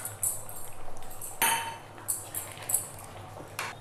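Metal spoon clinks against a pan several times in quick, light taps while finely chopped coconut is stirred into a tomato and jaggery chutney; faint and close, without talk.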